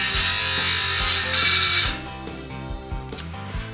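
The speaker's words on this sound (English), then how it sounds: "I think we're going to hear it with the jigsaw or the circular saw" Power saw, a jigsaw or circular saw, cutting wood framing for a van build's sofa and kitchen: a loud, steady whining cut that stops partway, then quieter intermittent mechanical clatter and tool handling.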